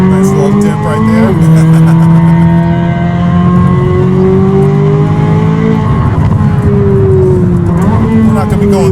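A Corvette C8 Z06 fitted with an AWE SwitchPath exhaust drives through a hilly canyon, its loud, steady engine note rising and falling through gear changes and echoing off the hillsides, with a voice speaking over it.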